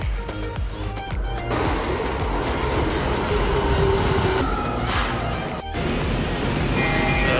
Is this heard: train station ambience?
yes